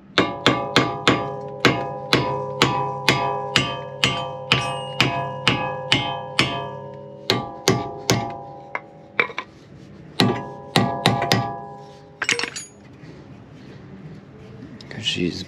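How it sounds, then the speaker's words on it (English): Repeated sharp metallic hammer blows on a seized tie rod end of a 2016 Ford Explorer XLT, a steady run of strikes followed by a few more irregular hits, loud and close. "May have to give it a little bit of love with the hammer."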